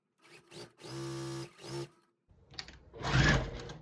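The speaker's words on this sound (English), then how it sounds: "So I'll just continue sewing on this side on each square this way." A sewing machine stitches precut quilt squares in a few short bursts, motor whirring in separate runs with brief pauses between them, close and fairly quiet, no talk.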